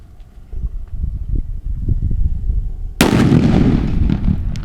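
A firecracker set off at a fireworks shop bursts with one sharp, loud crack partway through, followed by a dense crackling roar over low background rumble and movement.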